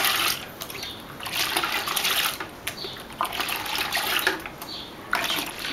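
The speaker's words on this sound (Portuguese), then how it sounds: "agora a gente vai dar uma misturada." Home-brewed pilsner wort topped up with water and stirred in its vessel, giving continuous loud sloshing and swirling liquid noise with splashes throughout, no talk.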